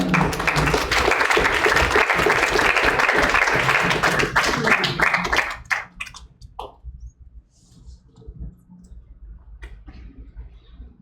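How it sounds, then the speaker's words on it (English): Audience applause at a high school debate event in the FSM, dense and steady for about five seconds, then thinning into scattered, fading claps and quiet room noise. "let's give FSM Telecommunications a big round of applause."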